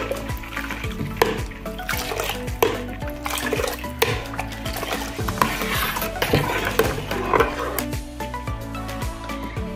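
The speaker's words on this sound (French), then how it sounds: "le secret pour réussir sa sauce jaune, c'est de remuer constamment" A spoon stirring yellow sauce in a pot for taro, with constant, busy scraping and knocking against the pot in a steady rhythm, close and fairly loud, with no talk.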